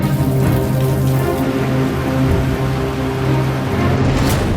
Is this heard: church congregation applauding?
no